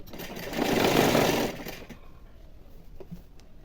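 An electric sewing machine stitches an elbow-length puff sleeve seam in one loud, steady whirring burst lasting about a second and a half, then stops, leaving quiet room noise and a few faint clicks.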